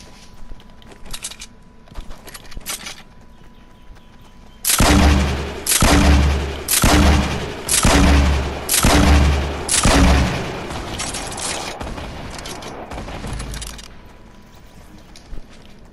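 Fortnite Battle Royale combat: faint scattered shots, then a run of six heavy, booming gunfire or explosion bursts at a steady pace, fading into quieter distant shots, with no speech.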